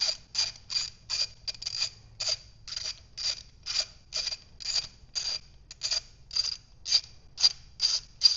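A ratchet fitted with a 12-point 14 mm socket clicks in a steady series of short, crisp bursts as spark plugs are loosened and removed, close and regular with no talk.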